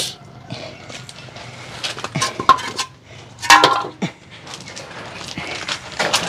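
Metal pots and pans clank and clatter up close in an outdoor kitchen while vegetables are readied for boiling, with irregular knocks and scrapes and a short burst of clinks near the middle.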